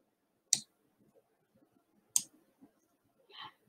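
Two sharp computer mouse clicks, well spaced and close, with a fainter rustle near the end and otherwise quiet.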